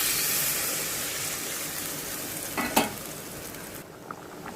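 Potatoes fry with spices in a pan as a steady close hiss and sizzle, then water is poured in with a short splashing burst, and the sound grows quieter afterward.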